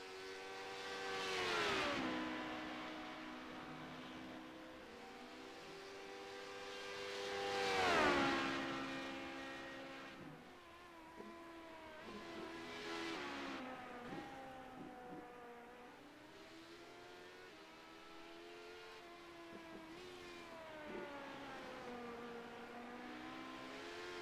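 LMP2 prototype race cars in a sports car racing game roar past one after another, engines swelling and then dropping in pitch as each passes, with a steady drone of other cars in between.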